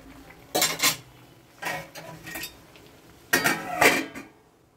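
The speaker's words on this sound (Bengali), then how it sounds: "এবার আমি ঢাকনাটা তুলে নিচ্ছি।" Metal pot lid lifted off a pot of simmering ash gourd peel, three separate clattering clinks of metal against metal spaced over a few seconds, close and fairly loud with quiet between.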